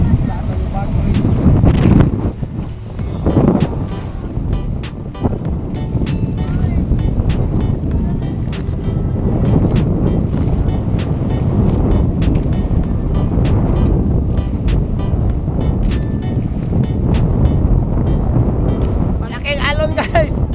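A pump boat crossing open sea in big waves and strong wind between islands, with roaring wind buffeting the microphone, engine drone and water crashing against the hull, loud and continuous, with people's voices calling out now and then.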